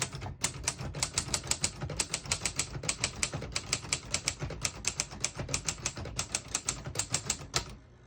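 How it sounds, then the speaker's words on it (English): A 1956 Underwood Universal portable typewriter is typed on steadily, with rapid crisp key strikes in quick bursts and short pauses, heard close and alone. "It sounds like a classic typewriter, but it's not as loud."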